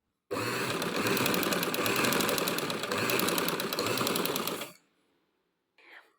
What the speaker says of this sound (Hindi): उसी तरह से हमने इसको भी स्टिच कर देना है इस तरह से।